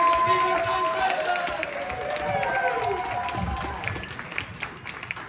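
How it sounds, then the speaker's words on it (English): A comedy club audience in Cornwall claps and cheers to welcome a comedian to the stage, a steady wash of applause with crowd noise and a sustained tone running underneath, easing slightly toward the end. "Start clapping and start cheering."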